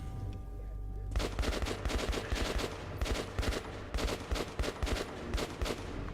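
Automatic gunfire in Metro 2033 starts abruptly and keeps going in rapid, uneven bursts, loud and near, with brief gaps between volleys.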